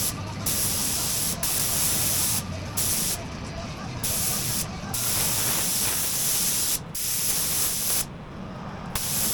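A spray gun with a 1.5 nozzle shoots primer onto a customized Harley-Davidson Touring saddlebag lid, giving loud bursts of steady hiss broken by short pauses between passes, close up with no talking.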